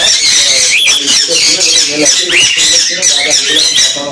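Cockatiels, including lutino, white-faced and black birds in a farm aviary, squawk loudly and continuously, many overlapping shrill calls close by.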